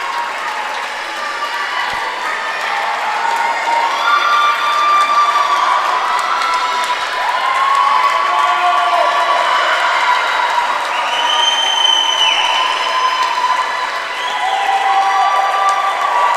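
Fans in the stands at a high school swimming senior night meet, a constant roar of cheering and clapping with shouting voices echoing in an indoor pool hall, loud and sustained throughout.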